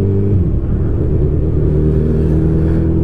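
A Honda CB1000R motorcycle revs hard and loud at close range while spinning its tire, its engine holding a steady, deep throbbing drone throughout.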